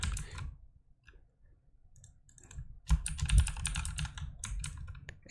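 A password is typed on a computer keyboard: a short burst of quiet key taps at the start, then near-silence, then a denser run of clicking keys toward the end.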